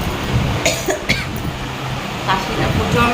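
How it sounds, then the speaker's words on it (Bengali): A person coughs several times in quick, sharp bursts close to the microphone, followed by quieter breathy sounds. Faint road traffic hums in the background, and some voice-like sound mixes in. "প্রচণ্ড কাশি হচ্ছে"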